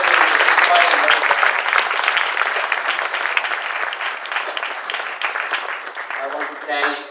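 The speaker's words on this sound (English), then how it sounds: "please give a big round of applause to Jagdish Bhai and Madhuben" An audience at an evening event gives a big, sustained round of applause for the hosts. Dense clapping rolls on for several seconds and tapers off as a voice begins over it at the end.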